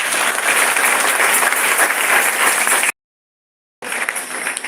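A church congregation claps loudly and continuously, a dense wash of applause that cuts off abruptly for about a second before resuming.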